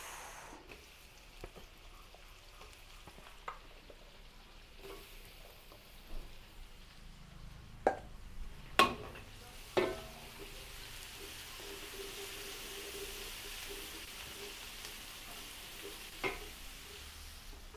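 Onions sauté in a pan, giving a soft steady sizzle throughout with a few sharp clinks and scrapes of stirring in the middle, and no talking.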